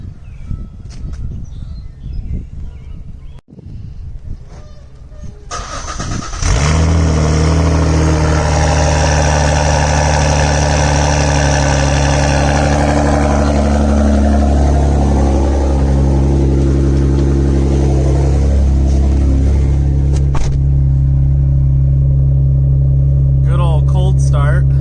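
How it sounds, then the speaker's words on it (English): A car engine starts and settles into a steady low idle, warming up on a cold 40-degree Illinois morning by the Mississippi; the loud, continuous rumble follows quieter shuffling and handling noises. "Give the car a couple seconds to at least get a little bit of warmth in it before we go anywhere."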